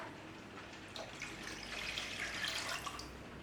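Water pours and splashes steadily into a cooking pot holding coconut milk for spinach soup, a continuous liquid rush that swells slightly toward the end.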